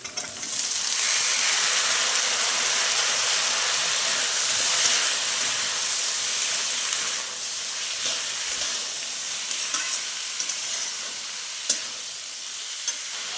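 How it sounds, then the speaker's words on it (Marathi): Green peas tipped into a hot pan of browned onion and turmeric on a wood stove, setting off a loud, steady, hissing sizzle that eases slightly partway through, with a few faint clicks. "आता वाटाणा टाकते."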